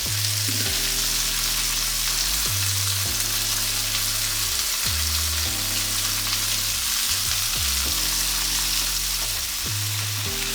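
Garlic frying in a pan for a chicken liver dish, a loud, close, continuous sizzle with repeated scraping and stirring strokes throughout, no talking.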